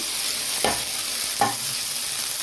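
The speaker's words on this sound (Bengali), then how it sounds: "ভেন্ডি ভাজবো বন্ধুরা দেখো ডিমটা দেবো ভেন্ডির মধ্যে পেঁয়াজ ভেজে নিয়েছি" Okra and onions sizzle in a frying pan while two distinct stirring scrapes cut through the steady crackle of hot oil.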